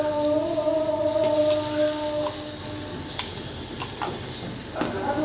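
Turmeric, salt and ground spices sizzle steadily in hot oil in a pan, with scattered clicks and scrapes from stirring over a constant tonal hum.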